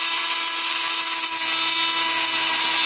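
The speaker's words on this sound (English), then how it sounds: "with your Dremel, go in and drill out that too, so take the shine off of the inside of that plastic nail" A Dremel rotary tool drills into a plastic fake nail, a loud, steady high-pitched whine that runs continuously at close range with no talking.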